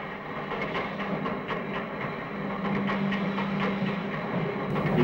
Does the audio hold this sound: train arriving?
yes